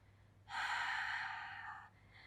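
A long, steady exhalation during a full-body Pilates spine roll, breathy and close, lasting over a second before fading, with no talking.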